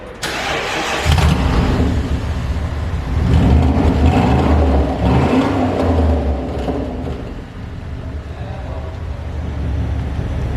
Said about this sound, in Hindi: मैं इसको ऑन करूँगा तो इसका एग्जॉस्ट ऑन हो जाएगा